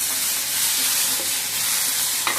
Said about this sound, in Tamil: இப்போ தக்காளி ரெண்டு தக்காளி போட்டுட்டு பார்த்துக்கோங்க நல்லா வதங்கட்டும்